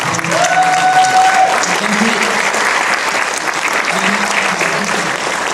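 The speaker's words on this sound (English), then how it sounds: "give them a round of applause for all the work they've done" An audience at a Winnipeg mayoral forum applauds, with dense, steady clapping throughout and brief voices rising above it.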